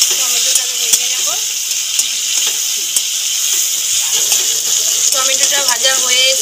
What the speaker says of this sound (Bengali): টমেটোটাকে ভেজে নেব।